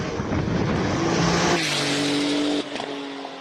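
A Porsche 996 Turbo on a clean hillclimb run at a Cape Town speed event, engine roaring loudly past with tyre noise, the pitch dropping as it moves away, no voices.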